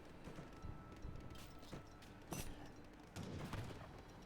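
Cannon fire from British forces in an Age of Empires 3 team battle: several quiet, rough booms scattered across a busy backdrop of battle noise and hoofbeats, with a louder burst near the middle.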